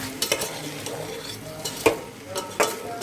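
Chicken biryani being stirred after chicken masala goes in, a spoon scraping and clinking against the pot in a few distinct strokes over a soft sizzle, close and alone with no voices.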